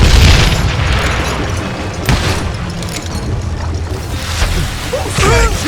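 Thrown dynamite blasting in the Western shooter Call of Juarez: Gunslinger, heavy booming explosions with rumbling debris, a sharp burst near two seconds and another near four and a half seconds, amid game noise.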